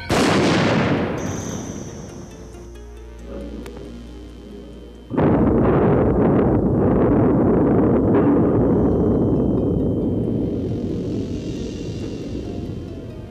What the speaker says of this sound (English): The oxygen and grease combustion or explosion you have just seen requires a source of ignition or heat